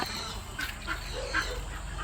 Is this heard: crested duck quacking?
yes